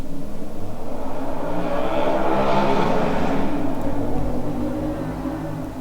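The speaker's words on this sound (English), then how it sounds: "That was a loud car." A loud car roars past, its engine swelling to a peak and then fading away over several seconds, with no talking.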